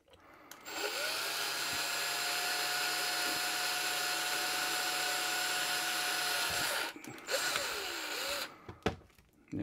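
An electric drill bores a hole in an electronics enclosure, whining at a steady pitch for about five seconds before stopping, followed by short, uneven bursts of drilling and handling clatter.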